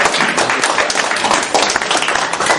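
Dense, steady applause from a crowd at an art exhibition opening in a gallery, many hands clapping together at close range and fairly loud throughout, without pause.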